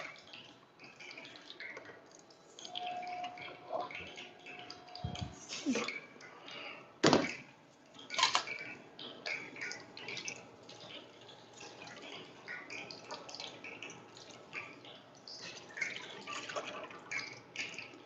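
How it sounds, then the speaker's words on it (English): Beef stock for Lanzhou ramen is strained through a fine strainer, giving a soft, continuous trickle and pour of liquid with a few louder clunks of metal pots nearby. "Now I want to strain out the stock and season the stock."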